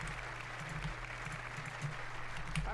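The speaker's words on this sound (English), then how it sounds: "wasn't sure if anybody even on this side was going to applaud for that" Applause fills a chamber during a presidential State of the Union address, a steady, fairly distant wash of many hands clapping with a low hum beneath and no talk over it.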